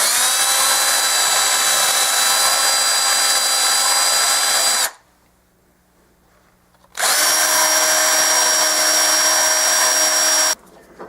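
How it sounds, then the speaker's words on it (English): Small high-speed rotary drill with a carbide burr grinding the inside of a Franklin half dollar coin ring, two long shrill whining runs with a brief quiet gap between them. "take this little drill with this carbide burr on it and work on the inside a little bit"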